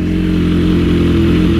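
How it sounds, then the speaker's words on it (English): BMW S1000RR motorcycle engine idling after an ECU remap, a loud, steady close-up rumble with even revs and no voices. "And now the revs are evening out"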